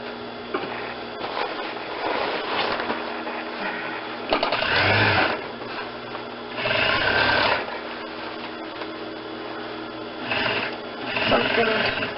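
Sewing machine stitching a zipper pocket through fabric layered over foam, a rapid mechanical chatter that runs steadily and swells in several louder bursts as the stitching speeds up.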